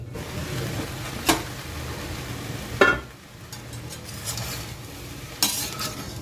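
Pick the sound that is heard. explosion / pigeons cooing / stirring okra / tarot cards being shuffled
stirring okra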